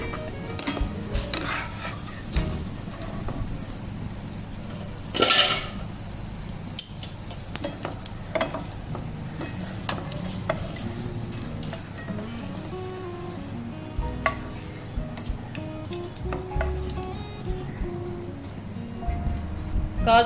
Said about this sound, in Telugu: కాజు వేస్తున్నా, కాజు వేగిని తీసేస్తున్నా.